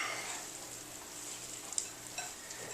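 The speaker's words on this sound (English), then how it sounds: "we're just going to get our hands dirty here and just go ahead and start mixing it all up" Ground meat and meatball ingredients squished and mixed together by hand, giving a faint, continuous wet hiss with a couple of soft clicks near the end.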